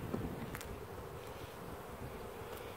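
Honeybees buzzing around an open beehive during an inspection: a steady, dense, faint hum of many bees close by, continuous and without talk.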